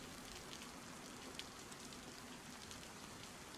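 Steady rain falls continuously, a dense even hiss of drops with a few slightly sharper patters, uniform and unbroken with no voices.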